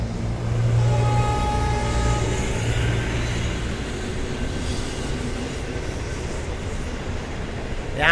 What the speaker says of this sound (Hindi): उसके नीचे से देख सकते हैं ट्रेन जा रहा है।